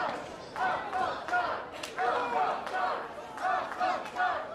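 A wrestling event crowd shouts and cheers in repeated loud surges, mixed voices rising and falling in waves with brief pauses between bursts.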